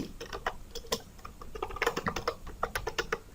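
Close keystrokes clatter on a computer keyboard as code is typed, uneven quick taps in small bursts with short pauses between them and no talking.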